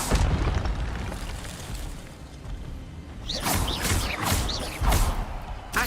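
A disarming spell cast in the video game Hogwarts Legacy lands as a cluster of explosive bursts and whooshing zaps in its second half, following a stretch of low rumbling game ambience.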